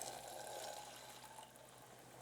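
Tap water, about a quarter cup, pours into a pan of onions cooking over medium heat, giving a steady faint splashing and hissing wash that eases slightly toward the end.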